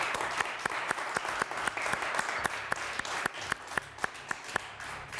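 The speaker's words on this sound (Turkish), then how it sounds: "Merve Hanım'a bir alkış daha gönderelim." A studio audience on a Turkish television word quiz show applauds the day's champion, steady crowd clapping with one loud nearby clapper striking a regular, distinct beat on top.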